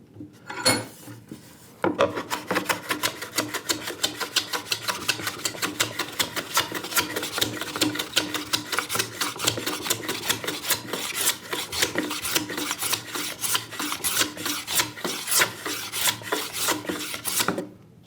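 A hand plane shaves along the wooden surface of a dovetailed box in quick, rhythmic rasping strokes, close and loud, after a brief pause and a few opening scrapes.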